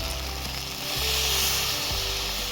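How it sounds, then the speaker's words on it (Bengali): Tomato paste thinned with a little water sizzling and frying in hot oil, a loud close continuous crackling hiss with faint stirring. "এবার আমি নিব টমেটো পেস্ট এতে সামান্য জল দেবো"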